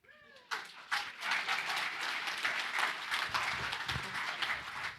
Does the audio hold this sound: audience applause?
yes